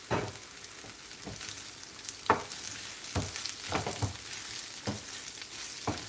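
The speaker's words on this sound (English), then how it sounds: "And I'm now going to be frying this shutki thoroughly with this." Loitta shutki, dried Bangladeshi fish, frying in a pan during curry cooking, a steady sizzle broken by repeated sharp stirring scrapes and crackles, close and moderately loud with no voices.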